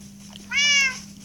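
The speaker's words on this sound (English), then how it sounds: "sorry, cats, you just have to stay down there because you can't teleport to me." A single short cat meow from the video game Good Craft, clear and close over a steady low background hum, with no talk.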